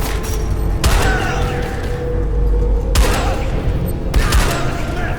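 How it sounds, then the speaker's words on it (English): Powerful pistol shots in the shooter game SiN Episodes: Emergence: three loud, sharp cracks spaced a second or two apart, each with a ringing tail, over a dense background of game noise. "Who doesn't like using a powerful pistol that sends enemies flying with a single shot?"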